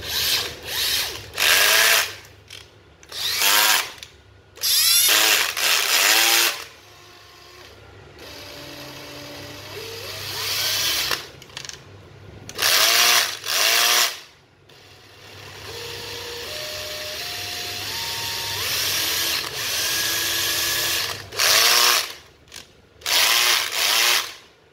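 A used Japanese cordless drill with 21 clutch settings and a drilling mode whirs nearby in repeated short bursts, its pitch climbing and dropping as the speed changes, with quiet gaps between runs.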